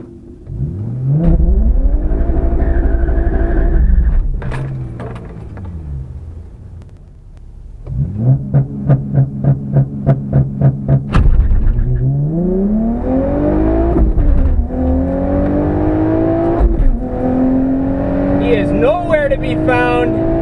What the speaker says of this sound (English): Gonna try to do a burnout here.